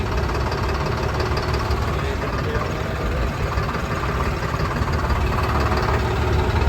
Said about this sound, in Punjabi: ਦੇਖੋ ਲਾਈਨਾਂ 'ਚ ਟਰੈਕਟਰ ਟਰੈਕਟਰ ਖੜਾ ਏ